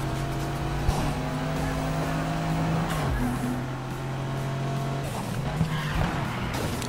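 A car in the Need for Speed Heat racing game, running new tires and no nitro, roars continuously with turbo whooshes and shifting engine pitch, plus brief tire squeals, loud and close.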